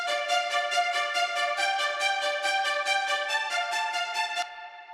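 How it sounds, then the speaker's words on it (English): High orchestral strings from an epic hybrid trailer track, a bright sustained passage with a rapid pulsing tremolo rhythm that stops abruptly near the end, heard alone with a strong low cut and no voices. "Let's start with these strings."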